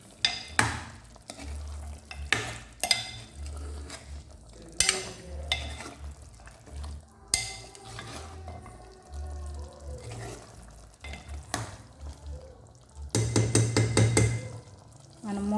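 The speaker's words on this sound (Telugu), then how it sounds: "ఈ చికెన్ అయితే ఇంకా ఉడకాలండి." Chicken biryani is stirred in a pot, with repeated scraping strokes and clatter between quieter stretches of soft simmering and bubbling, close by, and a brief burst of sizzling near the end.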